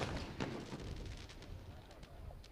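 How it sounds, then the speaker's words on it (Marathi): Firecrackers burst at a cricket ground during a local tournament match: scattered sharp pops and cracks, faint and distant, spaced irregularly over a low crowd murmur. "फटाके फोडायचे नाही आहे."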